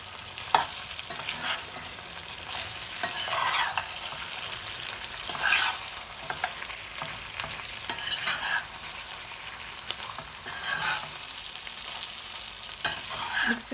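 Mutton black pepper roast with lemon juice being stirred in a pan, a steady sizzle under repeated scraping strokes that come in bursts every couple of seconds, close and fairly quiet, with no talking.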